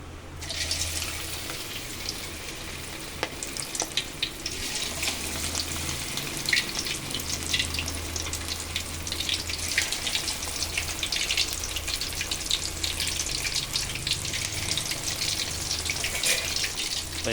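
Fish frying in hot, bubbling oil at home, a steady loud sizzle and crackle running the whole time with no voices.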